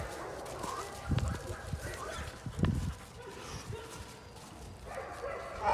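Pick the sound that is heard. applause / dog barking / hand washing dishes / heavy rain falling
dog barking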